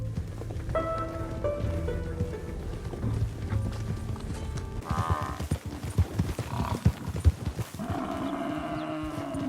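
Herd of horses in Red Dead Online, hooves clattering in dense irregular clip-clop, building to heavy thumping runs near the middle, mixed with music and ambient game sound.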